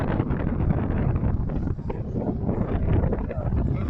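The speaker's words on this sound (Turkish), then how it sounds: "Rüzgar var burada." Strong wind buffets the microphone in a continuous low rumble, gusting throughout with no voices, on the Üçkuyular–Bostanlı ferry line in İzmir.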